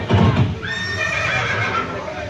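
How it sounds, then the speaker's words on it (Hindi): A horse, presented as Maharana Pratap's steed Chetak, gives a loud, drawn-out whinny that rises and wavers for over a second, with a voice speaking over it. "ये दृश्य महाराणा प्रताप और सुविख्यात स्वामी भक्त घोड़े चेतक के अंतिम मिलन का है।"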